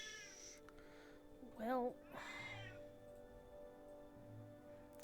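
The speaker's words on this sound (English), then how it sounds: "What are you doing, kitty cat? Why are you howling?" A house cat howls once in a drawn-out, wavering meow near the middle, close and fairly loud, with a shorter trailing cry after it, over a quiet room hum while a person talks briefly.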